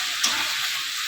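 Eggs cooking in a pan on a stove, making a steady, close sizzle with one brief sharp tick near the start.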